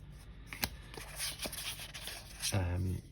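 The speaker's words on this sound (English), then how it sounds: "hear the sound of these cards, and these are nice thick cards" Thick tarot cards from an Auset Gypsy deck being handled and shuffled, giving soft papery riffles and flicks with a few sharper taps, close up, with a voice speaking briefly near the end.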